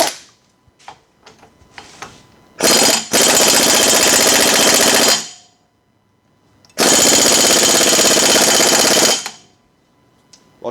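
Pneumatic impact gun hammering on the rear suspension of a 1986 Porsche 944 Turbo during teardown, two loud sustained bursts of about two and a half seconds each, with small clanks and handling noises between them.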